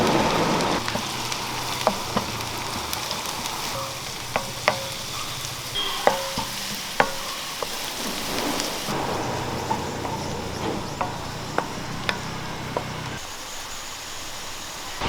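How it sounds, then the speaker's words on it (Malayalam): Three medium finely chopped onions frying in hot oil in a pan, sizzling steadily and close, with scattered sharp taps of a spatula stirring against the pan, no talk. "മീഡിയം സൈസ് മൂന്ന് സവോള വെറുതായിട്ട് അരിഞ്ഞെടുത്തിട്ടുണ്ട് അത് നമുക്ക് ഇതിനകത്തേക്ക് ഇട്ട് കൊടുക്കാം"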